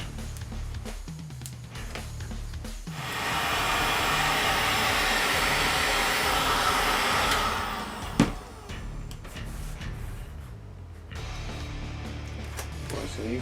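Heat gun warming foam shin guard pieces, a steady blowing whoosh that rises in the middle for about five seconds and then cuts off with a knock, amid quiet handling noises in a small room.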